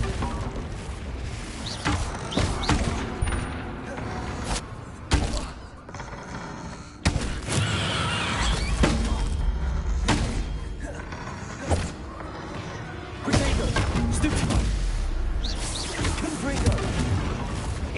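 Spell-casting blasts and explosions from the video game Hogwarts Legacy, with repeated heavy thuds and booms in irregular bursts over a dense, continuous game soundscape of rumbles and mechanical clatter.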